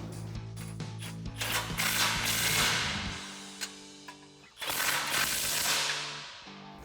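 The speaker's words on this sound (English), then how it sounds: "we'll grab our 18mm socket and swivel adapter and tighten these down" Ratchet fitted with an 18mm socket and swivel adapter tightening the mounting bolts of a RedRock Trekker front bumper on a Jeep Gladiator JT, giving close, steady mechanical clicking runs in two bursts with a brief pause between.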